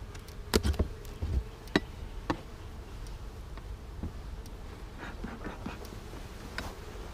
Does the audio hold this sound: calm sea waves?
no